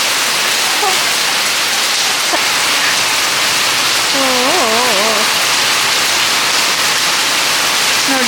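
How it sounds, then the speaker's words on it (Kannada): Rain falling outside a house makes a dense, steady hiss close by. A few faint warbling tones rise briefly above the downpour. "ನೋಡಿ ಇದು ಮಳೆನ."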